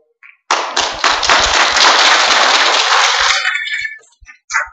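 A burst of applause erupts suddenly in a church lecture, loud and dense for about three seconds, then fades quickly, with a few faint sounds after.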